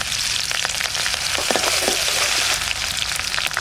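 Garlic, green chillies and cumin fry hard in hot mustard oil, a loud continuous sizzle with crackling pops and stirring scrapes throughout.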